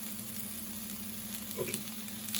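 Onions frying in a pan for a potato, mushroom and spinach frittata, giving a steady, fairly quiet sizzle that holds evenly throughout with no talk over it.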